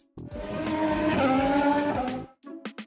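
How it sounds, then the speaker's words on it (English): Race car sound effect: a roaring engine with harmonic whine and squealing tires, loud and sustained for about two seconds, then cutting off into a few short bursts. "Race car."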